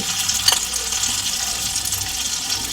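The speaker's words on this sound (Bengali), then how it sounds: "বন্ধুরা দেখুন, আমি একে একে আমি তেলে আমি এগুলো ছেড়ে দিচ্ছি" Potato and egg batter spooned into hot oil over a medium gas flame sizzles with a steady, dense hiss and faint crackles throughout, with no talking.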